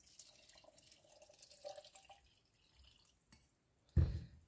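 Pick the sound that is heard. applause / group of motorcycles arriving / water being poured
water being poured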